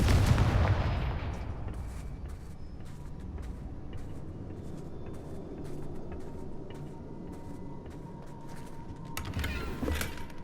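Confringo blasting spell cast in the Hogwarts Legacy video game, opening with a loud booming blast that fades into a rumbling ambient bed, with another sharp burst near the end.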